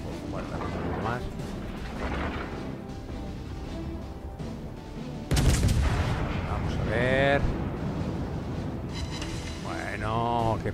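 The battleship Courbet fires heavy naval guns in World of Warships Legends, a sudden loud booming salvo mid-way followed by rumbling shell impacts and further blasts, while someone talks over the in-game battle noise.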